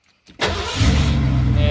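An older car with a gauge box, a funky shifter and some stale gas in the tank is started with a key: a short crank, then the engine catches quickly and settles into a loud, steady close-up idle.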